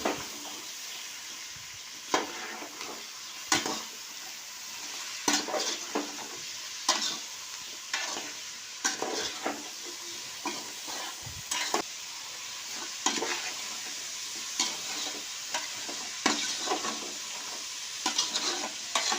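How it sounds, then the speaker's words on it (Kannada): Snake gourd pieces frying in a pan for sambar, a low continuous sizzle with regular scraping strokes of a spatula recurring every second or two, close and steady, no speech. "ಪಡವಲಕಾಯಿ ಕೂಡ ನಾವು ಸ್ವಲ್ಪ ಫ್ರೈಯನ್ನು ಮಾಡ್ಕೋಬೇಕು"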